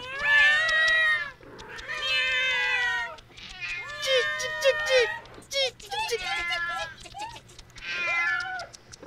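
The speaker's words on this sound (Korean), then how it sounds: "고양이들은 쥐를 잡으러 이리저리 뛰어다녔어요." Cats meow and yowl in a Korean children's story, a run of loud, drawn-out wailing cries with short pauses between them, heard alone without narration.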